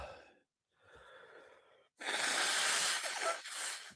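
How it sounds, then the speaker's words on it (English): Nose blown hard into toilet paper at close range: a few quiet sniffs and breaths, then a loud, rough honking blast lasting about two seconds, with no talking. "I just had to take off some toilet paper here so I can blow my nose"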